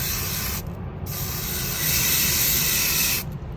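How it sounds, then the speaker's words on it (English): An aerosol spray can hisses in steady bursts onto dollar-store wool shaped into DIY pampas grass, close and fairly loud, with two brief pauses between sprays. "Keep spraying, keep spraying."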